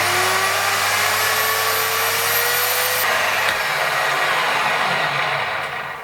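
A Parkside wood turning lathe motor runs steadily with an electronic speed control, a close, continuous whine and hum with a rising tone that holds, then shifts and eases slightly near the end, with no talking.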